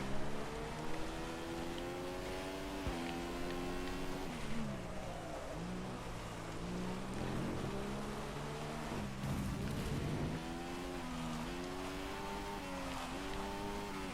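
A Formula 1 car's engine in F1 2015 screams steadily and close, its pitch climbing and then dropping at repeated gear changes, with a rough patch mid-run and no talk over it.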